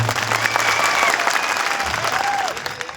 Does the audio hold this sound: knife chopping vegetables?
no